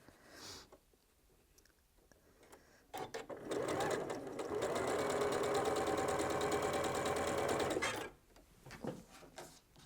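A Janome Memorycraft 9480 QC sewing machine stitches a quilt seam in one steady, loud, buzzing run of about five seconds, bracketed by soft fabric handling and clicks.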